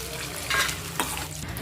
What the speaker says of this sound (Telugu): పచ్చిమిర్చి వేగినాయండి ఇప్పుడు పప్పులు వేసుకుంటున్నానండి కొంచెం కరివేపాకు వెల్లుల్లి రెబ్బలు నాలుగు వేసుకుంటున్నానండి